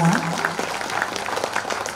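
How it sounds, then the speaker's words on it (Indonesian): An audience at a university ceremony applauds warmly and steadily, with a few voices mixed into the clapping throughout. "Berikan tepuk tangan yang meriah Bapak Ibu semua."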